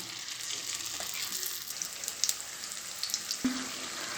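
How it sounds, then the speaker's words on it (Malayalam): Unniyappam batter frying in hot coconut oil in a kadai, a steady dense sizzle throughout with small pops and bubbling crackles and a soft clink near the end, no voices. "ചൂടായ ഉണ്ണിയപ്പ കടായിലേക്ക് നമുക്ക് മാവ് കുറേശ്ശെ ഒഴിച്ചു കൊടുക്കാം"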